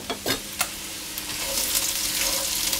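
Celery, onions and carrots sizzle in a pan after a few clattering knocks as they go in, then settle into a steady bright crackle, close and unaccompanied by voices.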